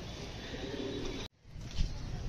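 Pigeon calls with a soft cooing quality, one burst near the end after a brief dropout, over steady background hiss; no talking.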